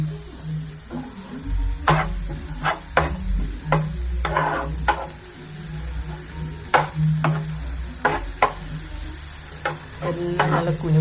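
Food sautéing in a hot pan for an egg recipe, with a steady low sizzle and repeated sharp scraping clicks of a spoon stirring against the pan at an uneven rhythm, close and alone with no talk.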